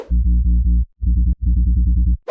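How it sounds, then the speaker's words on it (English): A sub bass synth preset for future bass thumps out deep, round, pulsing notes in three short rhythmic phrases with brief gaps, loud and isolated. "Sub bass."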